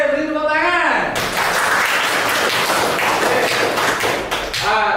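Classroom applause from students at a Hindu religious education session, a dense burst of clapping lasting several seconds between stretches of a voice talking.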